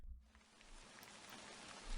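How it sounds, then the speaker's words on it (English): Quiet rain in the Sound of Drop video game, drops pattering softly on a girl's umbrella, a faint steady hiss with a few tiny taps and a low thump at the start and end. "The quiet rain. Pitter-patter, pitter-pat. The drops make a small sound as they land on the girl's umbrella."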